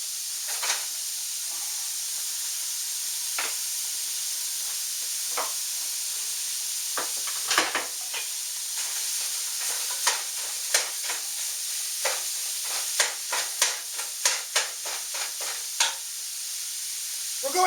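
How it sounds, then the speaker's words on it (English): Ground beef browns in a hot pan for lasagna, a steady sizzle and hiss under a run of sharp scraping and chopping taps as a utensil breaks the meat apart, growing busier toward the end. "We're going to brown this, the beef, chopping it apart to get it separated as much as we can."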